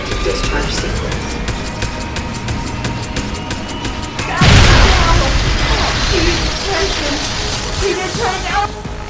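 A large explosion in a video game cutscene erupts suddenly and loudly partway through, its booming roar cutting off a steady electronic pulsing and tailing into crackling debris and rumble.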